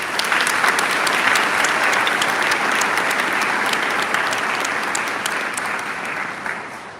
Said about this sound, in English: How about a round of applause for our leadership?